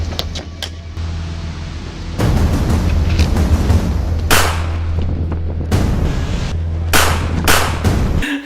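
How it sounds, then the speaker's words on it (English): Gunshots ring out from a played video as sharp, loud cracks. One comes near the start and several more follow at irregular intervals over a continuous rumbling vehicle-like background, with no speech. "That gunshot, just that the way that he shot at him"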